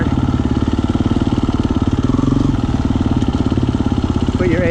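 A KTM 350 EXCF dirt bike engine pulls steadily in first gear up a hill, a close, continuous low throttled drone with rapid firing pulses and a brief rise in pitch near the end, while a rider talks over it.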